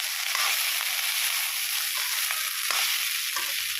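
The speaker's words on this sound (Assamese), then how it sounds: "বাটাৰতে মই ধুনীয়াকৈ এতিয়া ভাতখিনি ভাজি লৈছোঁ।" Cooked rice frying in butter in a pan gives a steady, close sizzle throughout, with faint scraping from stirring and no talk.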